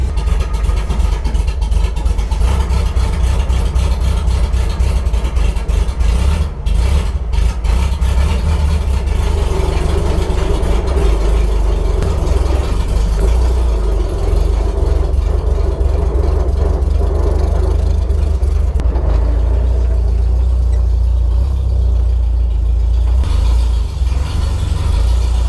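Small engine on a homemade one-wheel trailer running steadily at idle after starting, a loud continuous low rumble close by throughout with no talking.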